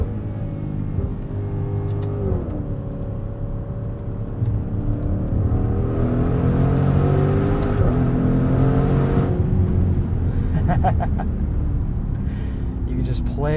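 A 2021 Maserati SUV engine revving up through the gears with turbo induction noise, rising and falling engine tones heard from inside, with a person talking over part of it.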